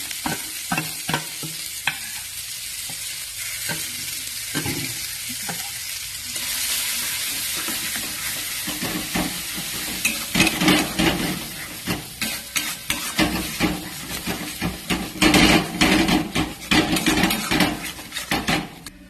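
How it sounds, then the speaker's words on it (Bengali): Green pea and carrot paste drops into a pan with fried asafoetida and cumin, then sizzles and fries while being stirred, with repeated scraping and clinks of utensil against the pan growing louder toward the end. "এবারে আমি এই বেটে রাখা কড়াইশুঁটি আর গাজরের যে পেস্টটা সেটা দিয়ে দিলাম।"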